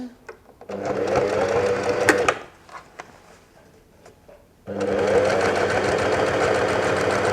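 Sewing machine running a straight stitch on a garment sleeve, two loud steady runs separated by a short quieter pause, close and alone with no talking.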